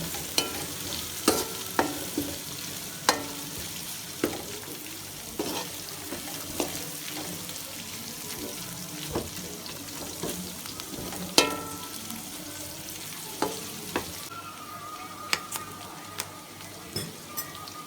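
Onions softening in a hot pan sizzle steadily while a utensil stirs and clinks against the metal in irregular taps, close and clear with no talking.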